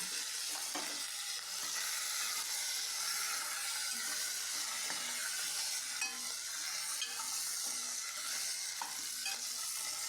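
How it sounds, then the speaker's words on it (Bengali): Vegetables sautéing with ginger-chili paste in oil in a pan for moong dal, a steady close sizzle with repeated scraping and clinking of a spoon stirring throughout. "সবজিগুলো দিচ্ছি দিয়ে আমি কষিয়ে নিচ্ছি"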